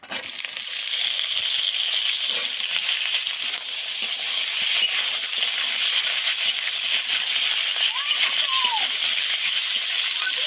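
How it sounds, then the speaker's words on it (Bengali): Nigella seeds and a dried red chili frying in hot oil for a spice tempering give a steady, even sizzle that carries on without a break, with a faint voice at most. "ফোড়নটাকে ভালো করে ভেজে নেব"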